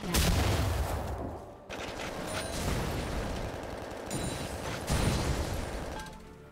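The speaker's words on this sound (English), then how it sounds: "Blue team's turret has been destroyed." Turret destruction in a League of Legends match: a dense, loud burst of explosive crackling and rapid gunfire-like blasts, with a second heavy impact near the end, continuous game effects throughout and no talk.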